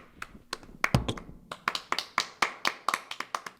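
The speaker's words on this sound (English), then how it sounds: "You better clap with me." A small group at a school gathering claps for a high school student of the week, distinct sharp individual hand claps settling into a fairly regular rhythm, close and clear with quiet gaps between them.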